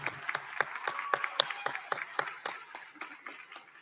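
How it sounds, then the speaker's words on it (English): Sparse, scattered clapping from a small crowd at a high school graduation ceremony, individual claps distinct and irregular, moderately near, gradually thinning out toward the end. "Please, let's give them a round of applause."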